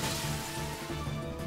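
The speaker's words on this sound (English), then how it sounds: "We just broke through somebody's beautiful glass window." Glass window shattering in the video game Chrono Cross, a dense, sustained crash filling the short stretch at steady loudness with no talk over it.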